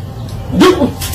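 A dog gives a single short bark or yelp partway through, close and fairly loud against a low background rumble.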